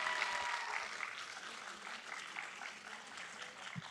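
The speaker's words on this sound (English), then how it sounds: "Instead of clapping, if you can raise your hands if you agree" Public attendees at a Los Angeles County Board of Supervisors meeting break into a steady round of clapping, heard faintly and at a distance in a large chamber, continuous for the full few seconds.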